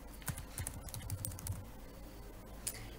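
Quiet, quick typing on a computer keyboard, a rapid irregular run of soft key clicks, faint and close.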